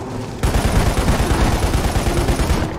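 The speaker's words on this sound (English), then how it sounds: "You guys still shooting me?" Dense, continuous automatic gunfire in the video game Lost Planet: Extreme Condition, a loud rapid rattle that kicks in abruptly after a brief quieter moment and keeps up without pause.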